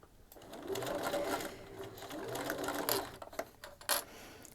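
A sewing machine stitches a rain cape in a steady whirring run, pausing and restarting with a few short bursts toward the end, close and moderately quiet.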